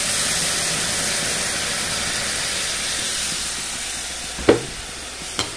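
Dhekia fern greens cooking in a pan give off a steady, loud hiss and sizzle after fermented bamboo shoot water is added, with a couple of brief clanks from stirring near the end.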